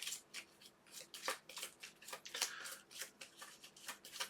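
Cards from the Terraforming Mars board game are shuffled into the deck by hand, giving a close series of quick papery riffles and flicks in an irregular rhythm, with no voices.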